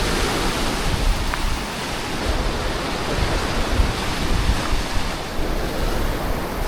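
Waves break on the shore of Pelee Island near a lighthouse, a continuous rolling surf roar with gusts of wind noise across the microphone and no voices.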